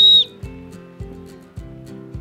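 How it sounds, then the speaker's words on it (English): A single short, shrill blast from the hidden emergency whistle built into a 2015 The North Face Jester backpack, loud and close, followed by a few soft low thumps. "it has this great hidden emergency whistle just in case you stray from your group"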